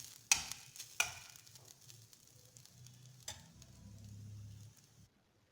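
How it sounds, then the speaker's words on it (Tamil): Grated coconut sautéed and stirred in a pan while preparing village-style rettai dosai: a steady close sizzle with sharp scraping spoon strokes near the start and again around the middle, stopping abruptly before the end. "தேங்காயில் இருக்க ஈரப்பதம் போகிற அளவுக்கு நம்ம வந்து வதக்கி வச்சுக்கலாம்."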